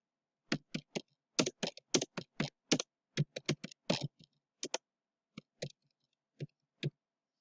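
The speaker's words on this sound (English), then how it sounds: "You have to type down the description for the document you're uploading." Document description typed on a computer keyboard, close and fairly quiet: rapid bursts of distinct key clicks, then a sparser scatter of single presses, with no voices.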